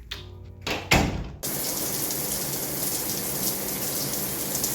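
Water runs in a bathroom during hair washing, beginning with a few splashes and knocks and then settling into a steady, close hiss of flowing water with no talking.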